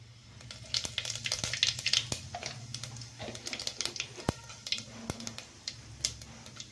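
Half a spoon of cumin seeds hits well-heated oil and crackles with quick, faint, irregular pops and spits over a soft, steady background hiss.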